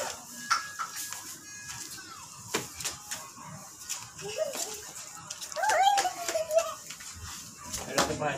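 Guard dogs at a house bark in short scattered bursts and let out a few high whimpers, mid-distance, with people talking over and between the sounds.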